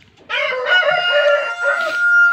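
A breeding rooster gives one loud, close, drawn-out crow lasting about two seconds, with no other sound around it.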